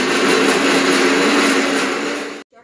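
A loud, steady whirring of a mixer grinder grinding coconut chutney, then it abruptly stops.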